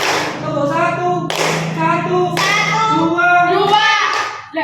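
A group claps together in a steady counting pattern, several sharp bursts of hand claps following one another, loud and close, with voices mixed in.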